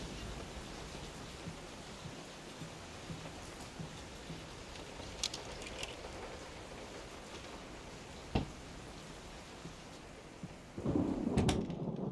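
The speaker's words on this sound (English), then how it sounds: "Will this storm ever run out of rain?" Steady rain pours in the 2023 PC horror game Layers of Fear, a dense hiss broken by a few faint cracks, with a louder rolling thunder rumble building near the end.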